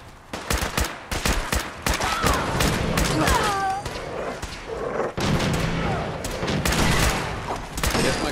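Heavy gunfire in Fallout 4, bursts of rapid shots and sharp single cracks layered over a loud, busy combat background for several seconds, with some voices under the shooting.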